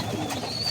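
A pigeon gives a short soft coo close by, a single brief low call over faint background noise.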